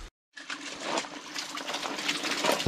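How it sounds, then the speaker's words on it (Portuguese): Floodwater gushes down a dirt road in a steady, broad rushing roar that starts abruptly after a brief silence and keeps going, close and loud, with no talk. "Tá vindo água. E tá vindo com vontade."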